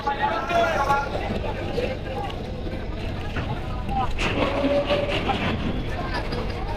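A passenger launch speeds up on a river, its engine giving a steady, loud rumble with rushing water, continuous and close, while people talk in the background.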